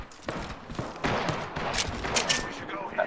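Weapon fire in the battle royale shooter Apex Legends: a rapid series of sharp shots and short bursts, some clustered like automatic fire, with faint voices mixed underneath.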